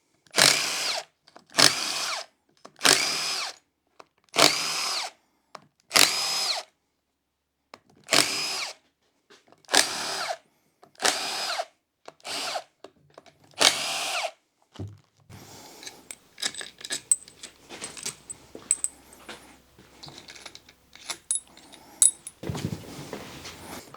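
Power tool on an engine teardown of a Honda ATC 250R, removing crankcase bolts: about a dozen loud, separate bursts of drilling in a steady rhythm, then quieter clattering and rummaging with parts and tools nearby.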